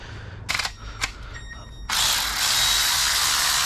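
Ratchet working on the supercharger lid bolts of an LT4 engine in a Camaro ZL1: a few short clicking bursts, then a sustained rapid ratcheting whirr, close up.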